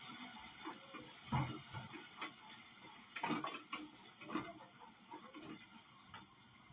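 Sago pearls fry in ghee in a pan, giving a soft hiss and sizzle broken by occasional stirring scrapes and light clinks, fairly faint and close.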